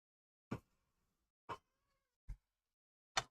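A cat meows four separate times close by in a kitchen while mushrooms are prepared, each call short and clear with quiet gaps between.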